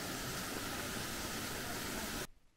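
Waterfall and stream water in the Black Forest, a steady, dense rushing hiss at moderate level that continues without a break and then cuts off abruptly near the end.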